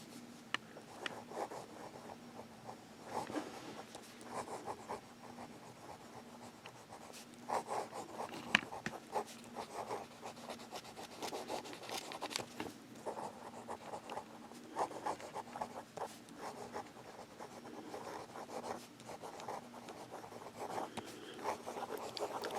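A medium, wet fountain pen nib scratches softly and steadily across paper with Robert Oster ink, close and quiet, with continuous writing strokes and no speech.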